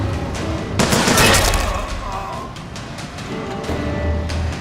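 Rapid gunfire bursts and shots ring out in the video game Bioshock Infinite, loudest in a dense volley early on, then scattered cracks continue amid game noise.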